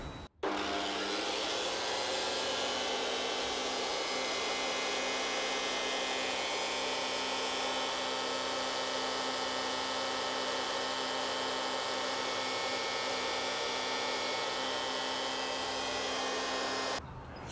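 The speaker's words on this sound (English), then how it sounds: "now we are going to test the Makita 2012NB thickness planer with the helical spiral head cutter installed" A Makita 2012NB thickness planer fitted with a helical spiral cutter head idles with no wood feeding, a loud, steady whine and hum that starts abruptly, holds constant for about sixteen seconds, then cuts off.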